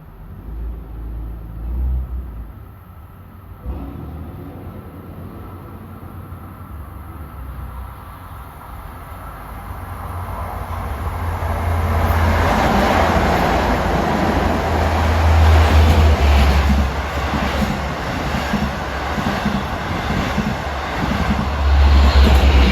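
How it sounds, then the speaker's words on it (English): A Long Island Rail Road passenger extra train running from Babylon to Jamaica passes through Westbury on triple track, a low rumble building from distant to loud and sustained as it rolls by close. "Passenger extra 17. It's running from Babylon to Jamaica."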